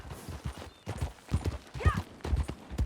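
Horse hooves clip-clop in a quick, uneven rhythm while riding in Red Dead Redemption 2, close and fairly quiet, with a brief whinny-like sound midway.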